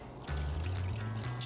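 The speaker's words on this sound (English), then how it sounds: "And then I'll add the remaining water." Water poured into a bowl in a kitchen while making chilled cantaloupe soup: a short, steady splashing pour close by, with no talking.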